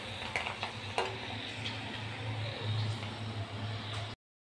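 Split chickpeas (chana dal) fry gently in a pan for cholar dal bhaja: a faint steady sizzle with occasional light stirring scrapes, then abrupt silence at the end.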